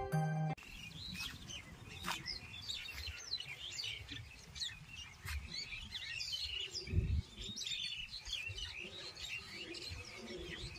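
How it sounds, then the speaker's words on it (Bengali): Small birds chirp and tweet faintly in scattered bursts beside a canal at Bortir Bill wetland in winter, against a soft, steady outdoor background. "চলুন পাখির কুজন শোনাই।"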